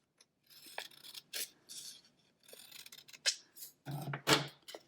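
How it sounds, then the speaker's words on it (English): Scissors snipping orange paper scrap into a triangle for a paper bird kite craft, a series of close, crisp cuts in short bursts with brief pauses between, alone with no talk. "I'm going to cut a triangle."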